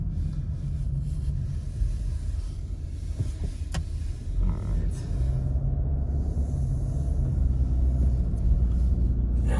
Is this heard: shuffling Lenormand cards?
no